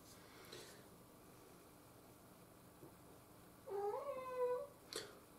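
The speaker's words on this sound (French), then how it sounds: "j'ai mon chat qui miaule" A house cat meows once near the end, a short rising-falling call over a quiet room, followed by a faint brief noise.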